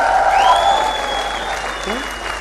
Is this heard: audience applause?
yes